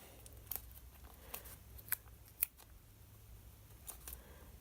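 Scissors snip marble washi tape in a few quiet, sharp cuts spaced irregularly over a soft background hush.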